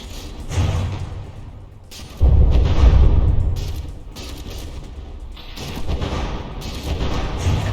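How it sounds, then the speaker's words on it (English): Battleship turrets fire and enemy shells slam home in From the Depths, heavy booming blasts and rumbling impacts arriving in uneven bursts, one especially loud hit landing partway through amid mechanical clatter. "the rear turret gets to aim and shoot as it gets pounded by like 4 or 5 enemy shells"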